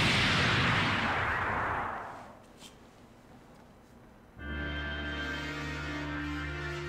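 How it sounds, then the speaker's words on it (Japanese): A Nebula explosion attack in the PS4 game Saint Seiya Soldiers' Soul erupts as a loud, roaring blast that fades over about two seconds, followed by sustained tonal game music. "爆発しろ、ネビュラよ。"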